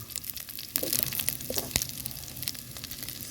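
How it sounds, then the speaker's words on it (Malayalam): Onion and garlic sautéing in a pan for gobi manchurian, a steady close sizzle with a few crackling bursts and soft stirring scrapes throughout, no voices. "രണ്ടും കൂടെ ഇട്ട് കൊടുത്തൊന്ന് വഴറ്റിയെടുക്കാം"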